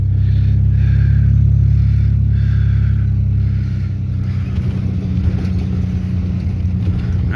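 A truck moves through a scrap yard with a loud, heavy, low engine rumble that holds steady, then turns rougher and more uneven as it keeps driving.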